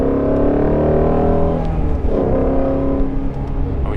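A Ford Shelby GT350 being driven, its engine giving a loud, close, continuous tone that shifts in pitch as the revs change, with road and wind noise underneath.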